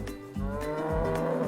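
A black-and-white cow on a farm gives a short, low, drawn-out moo, heard close and fairly clear with no talking.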